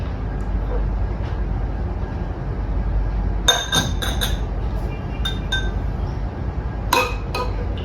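A spoon stirs turmeric powder into plain water in a glass, giving a few bright clinks against the glass in two short bursts over a steady low background rumble.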